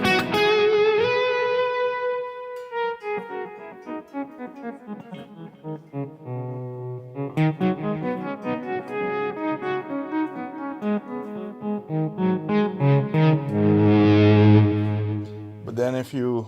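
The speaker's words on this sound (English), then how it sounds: "Now the echoes are dark." Electric guitar run through an echo effect set to a dark tone, sustained notes and chords trailing into softened, repeating repeats that fill the whole stretch at steady volume.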